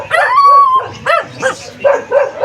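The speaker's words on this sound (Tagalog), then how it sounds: "may mga aso" Dogs bark and yip close by in quick, uneven bursts, with some whimpering whines mixed in between.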